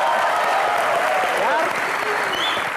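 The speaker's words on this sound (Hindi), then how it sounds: "तो एक बार फवाद के लिए जोरदार तालियां" A studio audience on the comedy show Comedy Nights With Kapil applauds in a dense, steady wash of clapping, with a voice speaking briefly over it.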